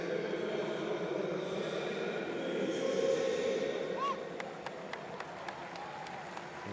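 Large stadium crowd at the Rio 2016 Paralympics athletics keeps up a steady wash of cheering and applause throughout, broad and continuous, with a few sharp claps and whistles near the end.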